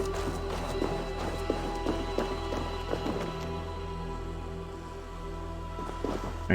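Horse hooves in the video game Assassin's Creed Valhalla, a run of clip-clop beats at a steady trotting rhythm over a constant low game-ambience hum, with a faint whinny near the end.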